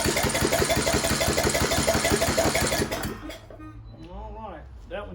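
A small lawnmower engine turning over in a fast, regular rhythmic chug for about three seconds before it stops, followed by quieter sounds and voices talking.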